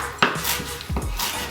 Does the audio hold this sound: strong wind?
no